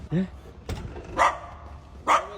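A few short barks from a Kangal dog, spaced apart at moderate distance, with faint voices murmuring in the background.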